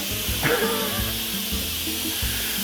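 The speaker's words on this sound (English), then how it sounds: "Now I'm going to manually release and let the steam out." Steam hissing out of an Instant Pot pressure cooker's vent during a manual release, a steady close-up rush of air with brief voice-like bursts over it.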